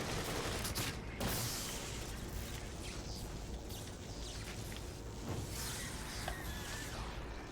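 Bursts of rapid gunfire with some booms and whooshing crackle through a firefight in the survival horror video game The Evil Within, dense and continuous without speech.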